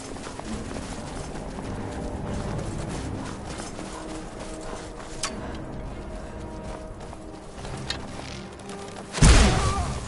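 Steady clip-clop of horse hooves at a running pace in the video game Skyrim, continuous and fairly close, with a sudden louder thump near the end.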